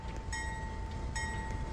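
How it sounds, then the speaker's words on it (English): A CSX locomotive rolling along the track in a Roblox game, a steady low rumble with a constant whine and two brief bright tonal bursts, heard alone without talk. "looks like the train is now rolling all the way to its front start"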